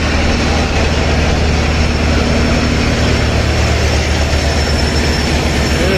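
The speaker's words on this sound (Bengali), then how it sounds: "শাহরুখ ইঞ্জিন, বিশাল বড় ইঞ্জিন শাহরুখের" The large engine of the passenger launch Shahrukh 2 rumbles loudly and steadily at close range. The deep drone stays even throughout, with no pauses and no voices.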